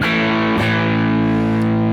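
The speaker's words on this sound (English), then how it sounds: "you have quite a solid distortion." Electric guitar played loud through creamy tube-saturated distortion, a thick sustained chord rung out, briefly re-struck partway, then left ringing, close and heavy.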